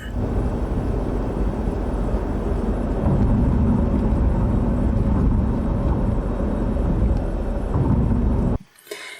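Steady road noise and engine rumble from a car being driven, played back from Digital8 or MiniDV camcorder tape, hold constant for most of the stretch and then cut out abruptly near the end.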